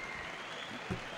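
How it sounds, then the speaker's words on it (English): Arena crowd applauding a boxer after a Commonwealth light heavyweight title fight, a steady distant wash of clapping with a brief louder thump near the end. "a round of applause for the gallant Tony Moore"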